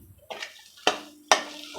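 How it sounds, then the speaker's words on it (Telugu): Spoon scraping and clanking against a pan as coriander is stirred into hot mango rice, three distinct metallic strokes with a soft sizzle between them. "ఇప్పుడు దీంట్లో కొత్తిమీర వేసుకొని కలుపుకోవాలి వేడిగా ఉన్నప్పుడే."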